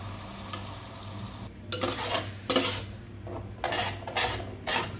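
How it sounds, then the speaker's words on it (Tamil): Ground masala paste for Chettinad chicken kuzhambu is stirred in a pot, with a series of close scraping, clinking strokes over a soft sizzle. "மசாலாவெல்லாம் நல்லா மிக்ஸ் பண்ணி விட்டுக்கலாம்"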